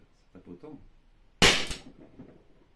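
An LTL Alpha 1.50 cal .50 air launcher fires one sharp, loud shot outdoors, preceded by quiet talk and followed by a short fading tail.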